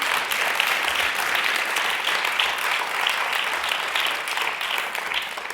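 Applause from an audience at a music interview with a band: steady, dense clapping that holds at full strength throughout without pause.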